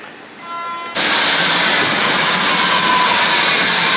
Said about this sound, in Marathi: आली आपली आता ही मेट्रो.